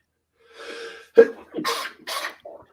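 A single sharp sneeze bursts out between bits of quiet voice and breathy sounds, close and fairly loud.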